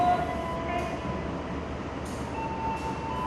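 An Indonesian long-distance passenger train, the Serayu among others, rolls past with a steady rumbling roar and faint high squeals, carrying on without a break.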